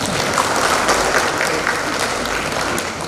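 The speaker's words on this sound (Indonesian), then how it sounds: "Tepuk tangan dulu tuh." Audience applause at a public speaking training session, a burst of close, loud clapping from a room of people, dense and sustained for a few seconds.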